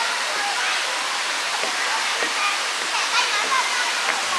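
Khlong Lan Waterfall roars in a constant, dense rush of falling water, loud and steady throughout with no pauses, the wash filling the whole clip.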